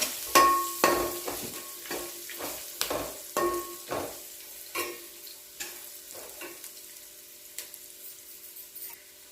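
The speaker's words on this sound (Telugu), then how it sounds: "పసుపు వేసి అంతా కలిసేటట్టు కలుపుకోవాలి" A spoon stirs turmeric into an onion tempering for gongura rice in a pan, giving a series of sharp scraping strokes over a faint sizzle, spaced irregularly and fading toward the end.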